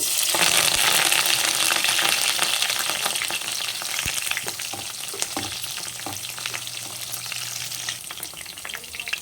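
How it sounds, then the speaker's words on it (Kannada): Mustard seeds, curry leaves and three medium-cut green chillies fry in hot oil for a cabbage palya, making a loud, steady close sizzle with light stirring clatter and no voices. "ನೆಕ್ಸ್ಟು ಒಂದು ಸ್ವಲ್ಪ ಕರಿಬೇವಿನ ಸೊಪ್ಪು ಹಾಗೆ 3 ಮೆಣಸಿನ್ಕಾಯಿನ ಮೀಡಿಯಮಾಗಿ ಕಟ್ ಮಾಡ್ಕೊಂಡು ಹಾಕ್ತಾ ಇದ್ದೀನಿ."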